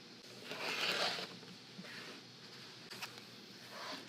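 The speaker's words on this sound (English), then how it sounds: "I'm going to take my ruler and my rotary cutter, and I'm just going to trim exactly on these cut lines here to make my sections" A rotary cutter runs along a ruler through quilt fabric in a few short, faint rasping strokes, each a soft scraping swipe with quiet gaps between them.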